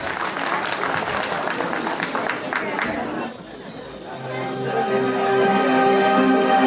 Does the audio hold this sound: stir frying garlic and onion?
no